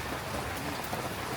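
Steady rain falls outside on a wet day in Da Nang, Vietnam, a dense continuous hiss of drops on surfaces that stays even and close throughout, with no voices.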